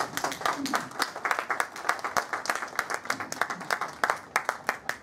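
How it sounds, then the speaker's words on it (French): An outdoor audience at an elegance parade in Rennes applauds a 1959 AC Ace Bristol, a dense, steady round of many hands clapping at moderate distance with a few sharper claps standing out. "Je crois qu'on peut applaudir un tel modèle"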